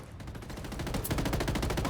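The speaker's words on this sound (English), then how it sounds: "Open fire. Roger that. Shots fired." A sustained burst of rapid automatic gunfire in the video game Ghost Recon Wildlands during a firefight with cartel forces, building in loudness as the shots continue in a steady rattling rhythm.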